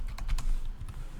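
Typing on a computer keyboard during a Logstash setup: a quick run of crisp keystrokes over a steady low background hum, close and fairly loud, with no talking.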